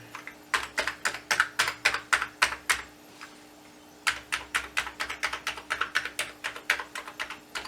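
Typing on an Amiga 500 computer keyboard: two bursts of quick, crisp keystrokes close by, separated by a short pause, with no talking.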